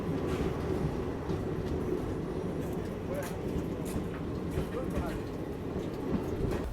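The Vibhuti Express, a Howrah–Prayagraj passenger train, runs at speed without stopping. A dense, steady rumble of wheels on rails and carriage noise holds throughout at a constant loud level.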